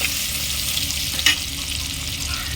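Onions fry with asafoetida and spice powder in a clay pot, a steady dense sizzle with a brief scrape of stirring partway through, close and fairly loud, no talk.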